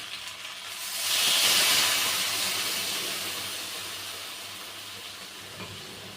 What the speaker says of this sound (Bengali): এবার হচ্ছে কেটে দুধটা দিয়ে দেবো।